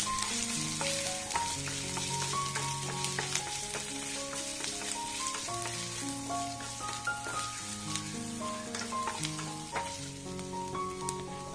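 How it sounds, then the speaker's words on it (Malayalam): Ginger sizzles and crackles in hot oil with mustard seeds, green chillies and curry leaves, a steady close frying hiss with scattered pops and stirring scrapes throughout, no voices. "ഇഞ്ചിയിട്ട് നന്നായിട്ടൊന്ന് ഇളക്കി കൊടുക്കാം."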